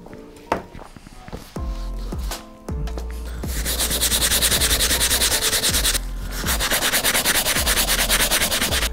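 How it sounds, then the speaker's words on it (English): A brass-bristle brush scrubs hard and steadily across an Air Jordan 12 Playoff sneaker, giving a loud, continuous rasping scrape with rhythmic back-and-forth strokes, no talk. "So we're gonna try to use the brass bristle brush to get that stuff out."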